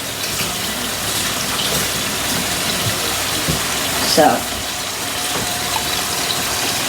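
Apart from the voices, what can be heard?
water being poured into a slow cooker pot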